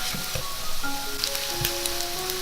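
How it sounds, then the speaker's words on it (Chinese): Cut pieces of steamed potato cake sizzle steadily as they pan-fry, a close, continuous crackle with a few brief clinks over it and no talking. "也可以像我这样子再煎一下，外酥里嫩"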